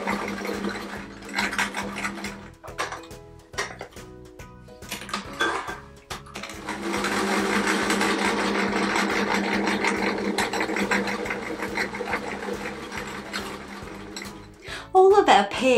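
A sewing machine stitches patchwork quilt pieces together in pairs, its rapid mechanical chatter running in bursts with short pauses between seams, close and clear, with a voice speaking briefly.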